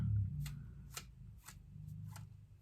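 A deck of playing cards is shuffled, with a series of about five quick crisp riffling bursts spaced roughly half a second apart over a low background hum, close and fairly quiet.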